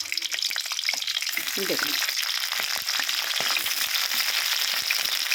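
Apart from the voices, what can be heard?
cauliflower frying in hot oil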